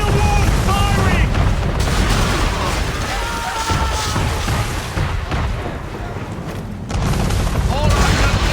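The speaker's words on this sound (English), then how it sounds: "Men of war firing!" Warship cannons firing in a naval battle in Assassin's Creed III Remastered, heavy booming blasts and crashing debris blended with constant battle noise and shouting voices, loud throughout.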